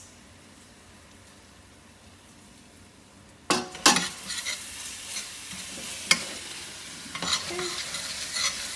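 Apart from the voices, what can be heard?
finely grated garlic and red pepper flakes frying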